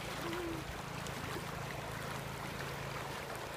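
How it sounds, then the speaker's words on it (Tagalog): Waves washing steadily at a river or beach in Jaro, Leyte, where people and carabaos bathe, heard as a continuous broadband rush with a low rumble, fairly close and without clear talk. "Alon."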